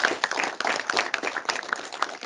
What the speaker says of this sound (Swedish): Och vi ger en applåd.